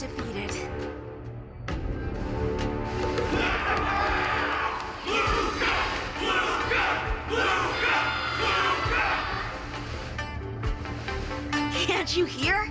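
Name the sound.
crowd cheering in video game Honkai Star Rail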